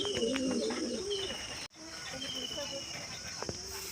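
A few soft, low pigeon coos come from a rooftop loft before a flight release, close and faint over a steady hiss, broken by a brief dropout and a sharp click near the end.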